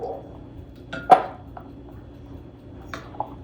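A spoon stirs vegan rice pudding with creamer in a pot, giving a few sparse metallic clinks and scrapes, one sharper knock, over quiet room background.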